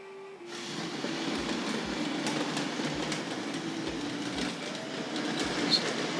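A Tri-ang R.152 model diesel shunter pulls deep-flanged tank wagons up an incline, giving a steady whirring motor hum with rhythmic clicks as the wheels cross rail joints, close and continuous after a brief quiet start.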